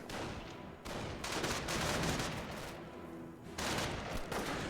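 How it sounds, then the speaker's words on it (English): Dense gunfire from the Company of Heroes 1 strategy game, including suppressive machine-gun bursts, rattles in long continuous volleys broken by brief pauses, loud and sustained. "And does use a suppressive fire mode right there."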